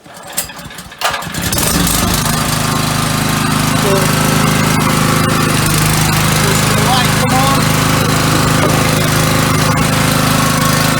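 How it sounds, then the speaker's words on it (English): A loud engine starts up and settles into a steady, droning run close by, with someone speaking briefly over it. "we'll get the generator, we'll get the engine running, so we'll start them now."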